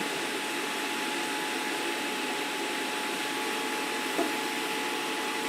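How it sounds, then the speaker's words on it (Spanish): A kitchen extractor fan runs with a steady, even broadband whoosh and a faint constant hum, filling the room throughout while a mushroom risotto is cooked nearby. "Los alumnos hablan de un ruido, quizás en tu cocina. El ventilador de la cocina."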